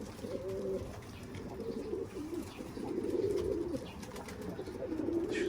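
Young Temkinli pigeons coo softly outdoors, repeated low murmuring calls overlapping throughout, fairly faint with a light background hiss.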